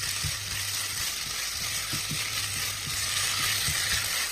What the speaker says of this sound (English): Add the lamb. Stir fry quickly.